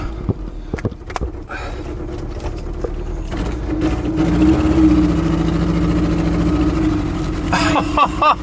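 A car with a gallon of Red Bull in its gas tank runs with a steady, rough engine drone that swells slightly midway, after a few sharp knocks and clicks at the start.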